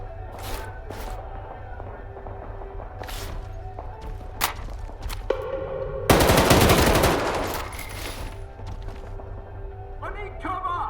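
Video game gunfire in Legends of the Zone: a dense, loud burst of automatic fire lasting about two seconds, with scattered single shots and game noise before and after, over a low steady background hum.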